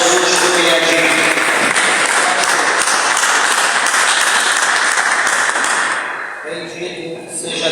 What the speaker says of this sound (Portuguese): dê uma salva de palmas bem alegre para Jesus